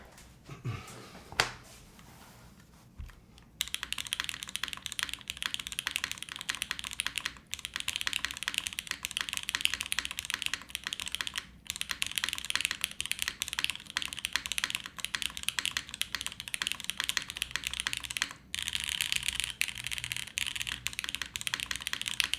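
Fast, continuous typing on a custom mechanical keyboard resting on a felt mat, crisp clicky keystrokes close up that start after a few quiet seconds and run with brief pauses, no talking.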